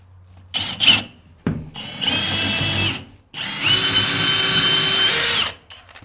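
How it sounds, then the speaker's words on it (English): Power drill driving timber lock screws through a plywood floor into 2x6 joists for a deer blind: a short burst, then two longer whirring runs that strain loudly, all close up. "I'll go ahead and get these drilled all out and start running the timber locks in."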